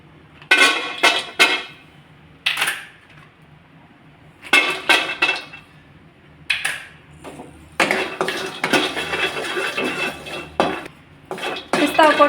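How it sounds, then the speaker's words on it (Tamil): Pistachios roast in a dry pan, heard as bursts of scraping and clinking from a spoon or spatula against the metal, with quiet pauses between the bursts and a longer stretch of steady stirring near the end. "லாஸ்ட் ஒன் பிஸ்தா போட்டு வறுத்துட்டோம்னா வேலை முடிஞ்சிடுச்சு."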